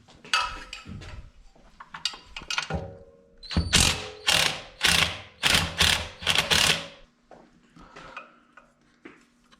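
A ratchet removing 12 mm exhaust nuts on a 2017 Yamaha FZ-07 motorcycle: loud close bursts of rapid clicking, some scattered, then a run of about seven rhythmic strokes, with metallic clinks between.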